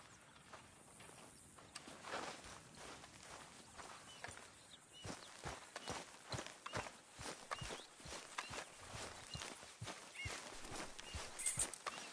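Horse hooves clip-clop in Red Dead Redemption 2, a steady run of sharp, fairly close hoofbeats on the ground that settles into a regular walking rhythm after a softer, noisier opening.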